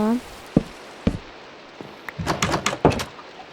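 A wooden door in Minecraft clunks open and shut several times, short hollow thuds spaced irregularly, alongside soft game footsteps and block sounds.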